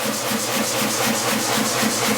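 A power hammer runs in idle mode, giving a loud, continuous mechanical hiss and churn with a steady pulsing motor rhythm and no voices.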